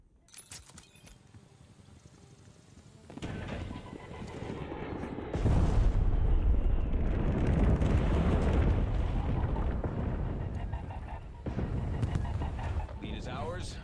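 Heavy bombing run in a video game, with dense rumbling explosions and crackling debris that build from a quieter start into a sustained loud roar, easing briefly before swelling again, with voices talking over it.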